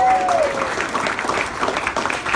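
Crowd applause at a grassroots political rally, a dense, steady wash of clapping from many hands that continues at an even level, with a voice briefly heard over it at the start.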